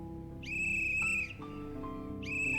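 A whistle blown in the video game The Night Is Grey gives two shrill, steady tones, each lasting about a second, over a low ambient game background with no talk.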